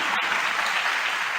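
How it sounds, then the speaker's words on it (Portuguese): Applause for Jesus during a Portuguese-language church sermon, a dense, steady wash of many hands clapping together, loud and sustained throughout. "Dê uma salva de palmas para o Senhor Jesus"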